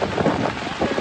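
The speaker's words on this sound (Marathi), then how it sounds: "वारं पण किती येतो" Outdoor wind in a rainy downpour, a steady loud rushing blast with rumbling gusts hitting the microphone, continuous for the short stretch with no one speaking.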